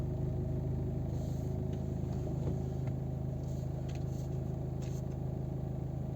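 A 2010 Volvo V50 with a 1.6 HDi diesel engine idles steadily with a low, even rumble that holds throughout, heard close and alone with no one speaking.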